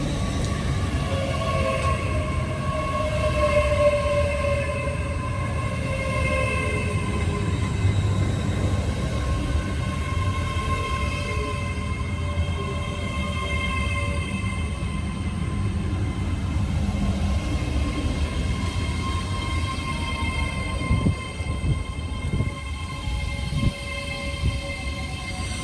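A train pulls out of Bristol Parkway station with a steady, loud low rumble, tonal whines from the traction motors and wheel and track noise rising and falling over about half a minute.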